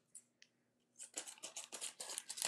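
Scissors are handled at a crafting table set up for resin and stencil work, with a couple of faint clicks followed by a quick run of crisp, close snipping and scraping sounds.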